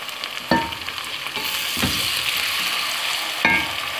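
Tomatoes drop into hot oil with frying ginger garlic paste, a loud steady sizzle with a few sharp splattering bursts and stirring clatter, close up with no talk.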